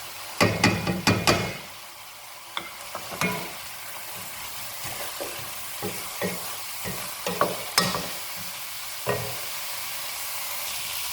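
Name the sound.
spices added to a frying pan for chicken stew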